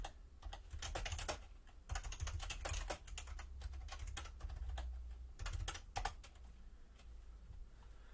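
Typing on a computer keyboard: a quiet, continuous run of close key clicks in quick irregular bursts with short pauses, alone with no talking.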